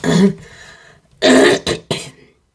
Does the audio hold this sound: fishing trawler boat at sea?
no